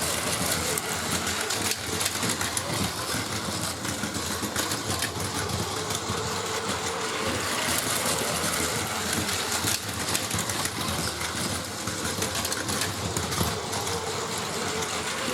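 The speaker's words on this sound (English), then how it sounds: "Now let's see how fast that train is" A small toy train runs on plastic Plarail track, rattling and humming steadily, a continuous close mechanical whir with no pauses.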